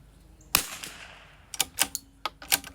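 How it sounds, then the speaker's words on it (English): A CZ 457 rimfire rifle fires a single sharp cold bore shot, loud and close, followed by several fainter clicks and knocks from handling the bolt and gear, with no talking. "That's a cold bore shot right there, the first one."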